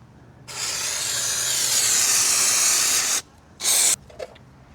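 An aerosol spray can hisses in one long, loud, steady burst onto a greasy car inner fender, followed by a short second spray and a faint click.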